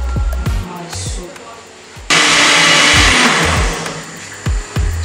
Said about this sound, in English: The red bell pepper, crayfish and onion. So I want to grind it.